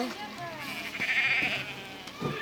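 A lamb bleats several times in short wavering cries, fairly close, with people talking around it.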